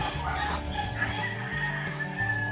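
White Leghorn chickens cluck and a rooster crows nearby, several birds calling over one another in a busy coop.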